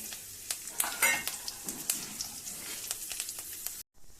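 Mustard seeds, curry leaves and a dried red chili frying in hot oil for bottle gourd palya, a close steady sizzle with popping crackles and stirring, cutting off abruptly near the end.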